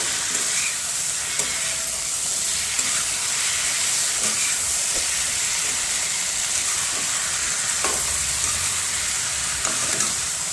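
Taro (arbi) frying in hot tempering oil hisses in a constant, dense sizzle, with occasional faint scrapes of stirring beneath, close and steady throughout.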